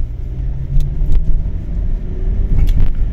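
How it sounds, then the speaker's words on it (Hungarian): Kia Ceed Combi 1.4 with 105 horsepower driving along, a steady low engine and road rumble from inside the cabin with a few faint clicks and rattles, no talking. "105 lovas, szépen megy, jó húz."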